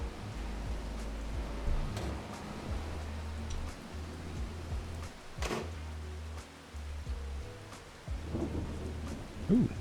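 Rumbling thunder and steady rain in the Farming Simulator 25 video game, with heavy low booms rolling in and out and a sharper crack midway, all over a constant hiss of rainfall.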